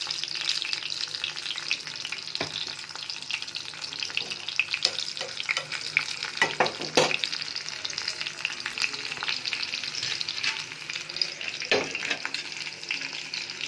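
Mustard seeds and garlic crackle and sizzle in hot oil during a tempering for a sour gooseberry dal curry, a dense continuous frying hiss broken by scattered pops and spoon scrapes.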